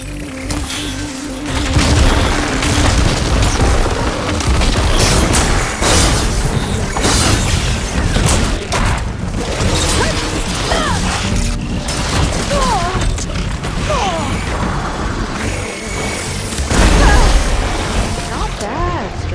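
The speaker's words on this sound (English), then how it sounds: "See those glowing crystals? Takes one hit to detonate." Volatile glowing crystals detonating in Horizon Forbidden West, heavy booms and crashing bursts recurring through a loud, busy combat soundscape with mechanical clatter and game voices.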